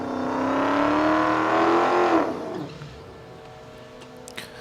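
A drag race car lifts off the throttle at the top end of the strip, first as a loud sustained roar that rises and bends in pitch, then cutting off sharply and fading into a quieter, distant background rumble.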